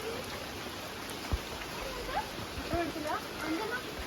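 Heavy rain falls in a steady, dense hiss with occasional louder drops, and faint chirps and a soft voice sit underneath.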